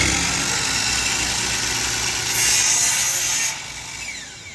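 A power saw runs at full speed, a loud, steady whine close by, then rises in pitch and grinds through a wooden dowel for about a second before the sound falls back to a lower, fading hum.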